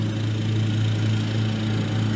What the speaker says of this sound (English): Lawnmower.